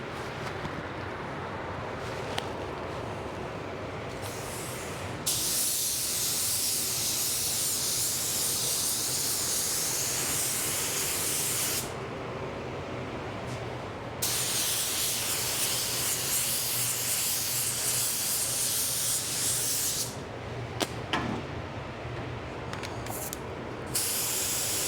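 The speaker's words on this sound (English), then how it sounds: "Wet bed can be applied with pretty much any gun." A spray gun lays a clear wet bed coat onto a car bumper in long, steady hissing passes, each lasting several seconds, with brief quiet breaks between them and no talking.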